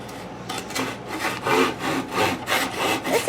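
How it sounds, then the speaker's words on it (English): A hand saw cuts through wood for a pinewood derby car held in a vise, giving rhythmic back-and-forth rasping strokes, about eight in quick succession, close and fairly loud, with no talking. "This saw is made for big hands."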